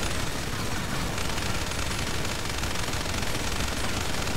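Dense, continuous rapid gunfire in a video game, loud and unbroken shots blending into a constant roar, with no talking.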